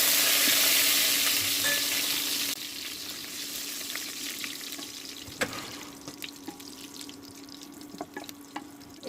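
Cumin, chilli and bay leaf hit hot mustard oil with a loud initial crackling sizzle that drops to a steadier softer hiss, broken by a few light clinks from a utensil.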